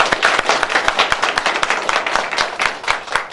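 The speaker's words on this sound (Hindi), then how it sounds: "इनके लिए भरपूर तालियां जी" A crowd at a Loncin motorcycle Eid gathering claps loudly and continuously, with dense, fast overlapping hand claps and no pauses.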